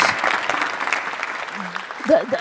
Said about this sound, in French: je vous propose d'abord qu'on les applaudisse très fort